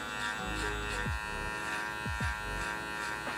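Electric hair clippers fitted with a number 2 guard buzz steadily close by while debulking hair, with a constant hum and a few brief gliding tones.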